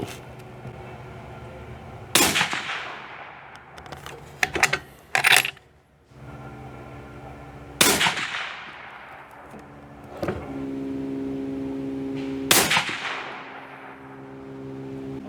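Rifle shots hitting steel targets, three sharp cracks spaced several seconds apart, each followed by a decaying ring, with some clattering handling noise between.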